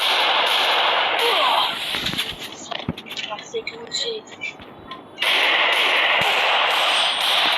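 A shooting video game fires gunshots in sharp, clustered bursts with loud noisy stretches at the start and end. Quieter intermittent shots and cracks sit in the middle.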